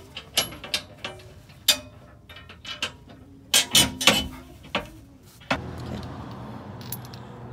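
Hand ratchet work tightening bolts on a Metalcloak undercloak skid plate for a 2018 Jeep Wrangler JL Rubicon, with irregular metallic clicks and clanks, some in quick clusters, close by, followed by a low steady background hum.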